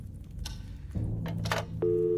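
A telephone busy signal sounds after a number is dialed in the horror adventure game Scratches, a steady electronic tone beginning near the end, following a few brief clicks and thumps over low background hum.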